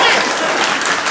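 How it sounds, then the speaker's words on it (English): An audience at a policy discussion breaks into brief, loud applause, a dense wash of clapping with voices mixed in. "You can clap for me."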